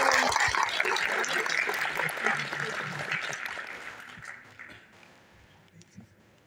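An audience at the grand premiere of an agriculture game reality show bursts into loud, dense applause that tapers off and fades to near silence over the last couple of seconds.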